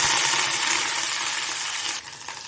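Hot oil sizzles and crackles steadily as mustard seeds and curry leaves fry, with a dense hissing spatter that eases slightly near the end.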